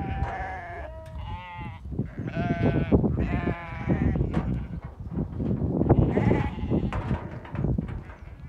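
Sheep and ewes bleating on a farm, several overlapping loud, wavering calls close by over a busy background, with a person talking among them.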